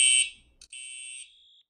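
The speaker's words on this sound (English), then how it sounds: "I didn't know the fire alarm went off, because it's a false alarm, not a drill" A school fire alarm sounds a shrill, piercing electronic tone in an indoor setting, breaking off briefly and then resuming before it stops, with no talking.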